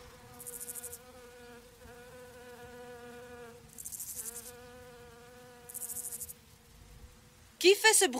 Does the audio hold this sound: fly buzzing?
yes